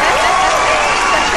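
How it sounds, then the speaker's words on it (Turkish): A dense, loud wash of audience applause in Skopje, Macedonia, steady and unbroken from start to finish with no distinct individual claps standing out. "Bir alkış istiyorum, bir alkış istiyorum."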